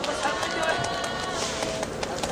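Audience applause at an outdoor street memorial for homeless people who died, welcoming a resident of a cramped single-room housing area as he comes up to speak; dense, steady clapping fills the whole stretch with voices mixed in.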